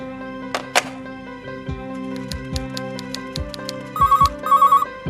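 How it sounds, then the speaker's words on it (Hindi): A telephone rings in an office scene from a South Indian film, several bright electronic ring bursts repeating in a steady pattern over soft background music, with no talking. "मक्खन राव जी इतनी बार फोन कर रहे हैं और आप कहलवा रहे नहीं हैं?"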